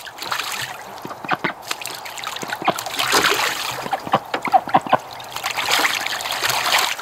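A soaked duck splashes and paddles in a bathtub of water, with irregular trickles, drips and splatters that come in bursts, some louder flurries of splashing close by.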